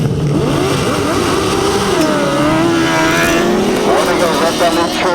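Grasstrack racing motorcycles launching from the start of a race, a loud massed engine roar with rising and wavering revving pitches as the bikes accelerate away, under an excited commentator's voice.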